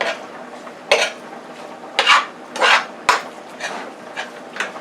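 A spoon stirring seasonings into spaghetti sauce in a pot, with several distinct scraping clinks against the pan at irregular intervals, close and fairly quiet between strokes.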